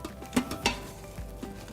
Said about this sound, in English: we're just gonna stir it all up until all the cream cheese and everything is well combined